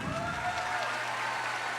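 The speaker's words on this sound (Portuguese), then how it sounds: "Eu queria uma salva de palmas muito calorosa para o nosso convidado especial" Audience applause greets a special guest, Deltan Dallagnol, at a NOVO party event in Minas Gerais: a steady, dense wash of clapping from a crowd that holds evenly through the whole moment.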